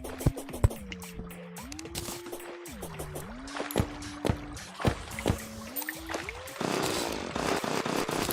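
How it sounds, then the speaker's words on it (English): A mining drill whines in the video game Terraria, its pitch stepping up and down in short glides amid clattering digging hits, then shifting to a rougher, noisier grind near the end. "My drill, yo."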